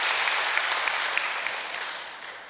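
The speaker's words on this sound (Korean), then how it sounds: "박수를 올려주시기 고맙겠습니다." An audience at a Korean peace blessing ceremony gives a round of thankful applause, a thick, even wash of many hands clapping at once throughout.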